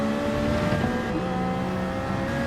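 A Nissan Silvia sports car engine in Gran Turismo 7 holds a steady, loud drone with harmonic tones, the revs easing slightly partway through.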